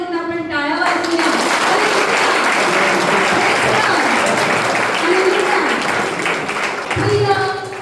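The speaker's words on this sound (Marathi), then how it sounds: "परत एक ईश्वर धन्यवाद देऊन आपण टाळ्या वाजवूया" A church congregation bursts into loud, sustained applause that fills several seconds, with a voice heard briefly just before and as it fades.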